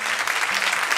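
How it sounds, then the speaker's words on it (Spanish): A church congregation bursts into dense, continuous applause, loud and steady throughout the brief moment with no voices standing out. "Denle un gran aplauso al Señor."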